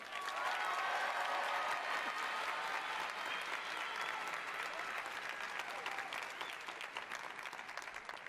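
A large comedy-show audience applauds comedian Kev, dense rapid clapping that starts strong and holds steady, slowly thinning toward the end, with faint voices under it.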